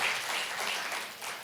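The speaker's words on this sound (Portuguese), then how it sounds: "a gente só quer te aplaudir ali" A church congregation gives a brief burst of applause to welcome visitors. The clapping is steady and hiss-like and carries on without any voice.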